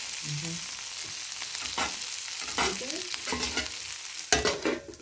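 Onion, ginger and garlic frying in a pan for Kenyan omena: a steady close sizzle with scraping stir strokes and clinks throughout, ending in a couple of louder knocks, and a brief voice near the start.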